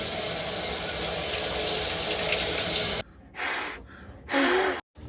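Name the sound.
rinsing a camera battery under a running tap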